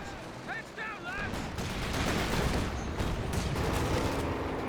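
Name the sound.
PIAT anti-tank weapons firing in Company of Heroes 2 video game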